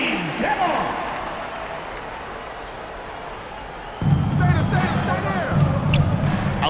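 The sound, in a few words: crowd applause for Spurs Hype Squad dance team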